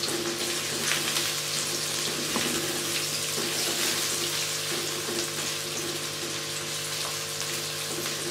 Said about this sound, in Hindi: अब मैं प्याज को फ्राई कर लूँगी।